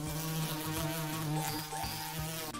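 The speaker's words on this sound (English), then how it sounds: "Have you heard the buzzing of the bees?" Bees buzzing in a steady, continuous drone with a slightly wavering pitch, heard alone and fairly close throughout.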